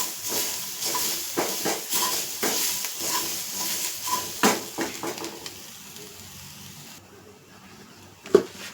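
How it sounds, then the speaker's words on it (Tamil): A mixture sizzles and hisses steadily in a hot pan while being stirred, with regular scraping and clattering strokes over the frying noise, tapering off near the end. "எல்லாம் ஒன்றா மிக்ஸ் பண்ணி நம்ம வறுத்து விட்டுக்கலாம்."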